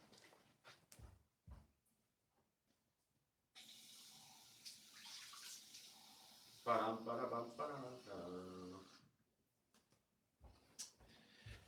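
A kitchen or bathroom tap runs for several seconds at moderate distance, a steady rush of water that swells louder partway through as the flow strikes something, then shuts off into quiet with brief knocks before and after.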